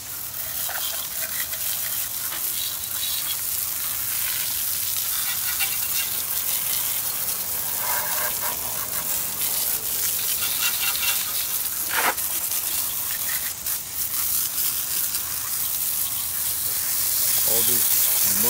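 A 1986 Honda XR250R motorcycle caked with Oregon winter mud being washed, with a loud continuous hissing spray of water running nearly steadily throughout and brief shifts where the stream strikes different surfaces.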